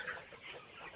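Chickens clucking softly in a brief, faint, low-level burst of poultry sound.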